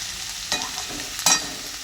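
Salted onions fry in a pan with a continuous close sizzle, while two distinct scraping stirs of a spatula cut through partway.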